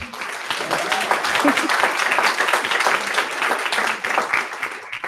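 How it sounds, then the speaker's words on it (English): Applause at a school board meeting after a student athlete is honored, a steady clapping crowd filling the whole stretch at moderate volume with a faint voice or two underneath. "Round of applause."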